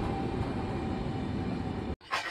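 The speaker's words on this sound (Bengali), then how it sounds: "আমার ট্রেনটা এখন রেলওয়ে স্টেশনের 1 নম্বর প্ল্যাটফর্মে চলে এসেছে।" A train pulls into platform 1 at a railway station, a loud, steady, dense rumble that breaks off abruptly near the end before a brief burst of noise.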